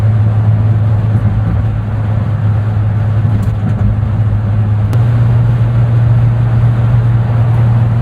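A manual 1993 Ford F-150 pickup with an inline-6 engine drives along, a loud, steady low engine hum and road rumble heard from inside the cab.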